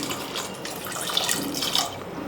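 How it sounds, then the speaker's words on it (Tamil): Water poured onto lentils in a pot while making tiffin sambar, a short close splashing trickle with a few bright droplet sounds, no talking. "பருப்பு வேறு அளவுக்கு தண்ணி ஊற்றிக்கலாங்க."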